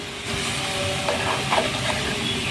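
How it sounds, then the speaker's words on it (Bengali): Spice paste of coriander powder, turmeric and salt frying in a pan for a small-fish potato and onion curry gives a continuous soft hiss and sizzle, with a few faint clinks of stirring partway through. "দিয়ে মশলাটা কষিয়ে নেব একটু"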